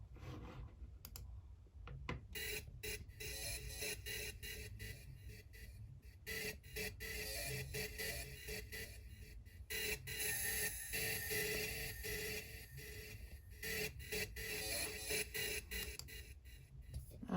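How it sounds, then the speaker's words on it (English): An isolated, altered sewing machine sound used in a soundscape composition: dense, rapid mechanical clicking and rattling that runs steadily throughout, with no voices. "This little part, that's where I isolate the sound of the sewing machine, and I change that"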